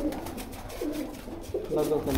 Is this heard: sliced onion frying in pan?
no